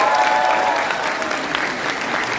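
An audience at a regional advisory council launch ceremony in Gumi claps steadily, a dense, close wash of applause that stays even throughout.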